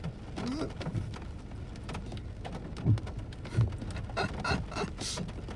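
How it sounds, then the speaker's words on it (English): Heavy rain pours down steadily at Dunskey Estate, Portpatrick, Scotland, drumming hard on surfaces nearby, with a few louder splashes and thuds standing out. "The rain is absolutely chucking it down."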